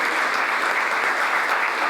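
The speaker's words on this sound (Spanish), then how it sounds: "el aplauso para Marcelo Orcelet" Steady, dense applause from an audience at a local history panel event, loud and close, filling the whole moment without a break.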